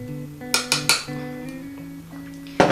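Affect translucent loose powder is tipped into its plastic jar lid: four or five sharp, close taps and knocks of the jar and lid over soft background music.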